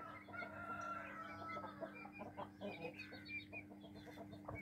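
Hens cluck in a busy poultry yard, a cluster of close, repeated clucks and short calls over a low steady hum, moderately loud and without talk.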